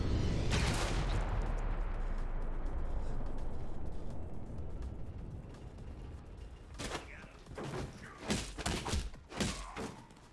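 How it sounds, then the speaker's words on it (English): A video game weapon fires a loud burst at the start, then a low rumble lingers before another run of sharp, uneven shots and thuds comes near the end. "Why is it shooting in the wall?"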